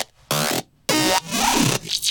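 Several synth patches trade alternating notes in a hocket pattern, short bright bursts switching between distinct timbres in quick succession, loud and alone with no talking.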